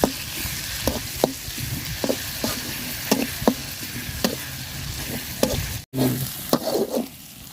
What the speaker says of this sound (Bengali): পেঁয়াজটা লাল লাল করে ভাজা নিচ্ছি বাটা মশলাটা দিয়ে